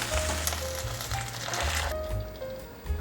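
Water poured into a hot wok of cabbage, giving a steady close sizzle and hiss that holds for a few seconds, with a low hum underneath.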